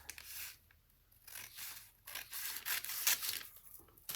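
Scissors snip through paper while cutting out a wrap-over skirt pattern, giving a few soft, close crunching cuts with light rustling in between and no talking.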